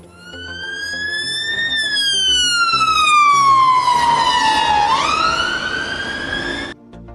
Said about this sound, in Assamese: the sound of ambulance